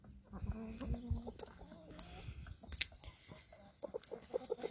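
Brahma hens, including a chocolate porcelain one, cluck in a run at close range, with short rhythmic calls and soft murmurs. A person talks over and between the clucks.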